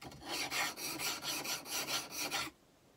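The burr is taken off a freshly sharpened woodworking tool edge at a 35-degree bevel, about ten quick, even rasping strokes, close and steady, with no voices, then stopping.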